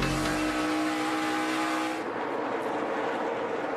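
NASCAR Nationwide Series race cars racing at Atlanta Motor Speedway in 2014, a loud engine roar with a droning tone that drops off after about two seconds into a steadier, broadband rumble.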